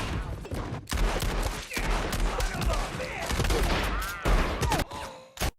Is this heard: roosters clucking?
no